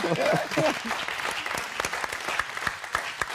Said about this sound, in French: on applaudit Anne-Marie qui est à 0